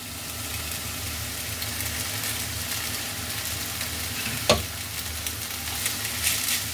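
Boiled Maggi noodles and spring onion leaves being mixed in a hot pan, a continuous close sizzle under steady stirring, with one sharper clack of the utensil partway through.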